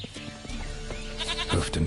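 A wavering goat bleat from The Witcher 3 rises to a louder cry near the end, set against a soft game ambience with faint voices.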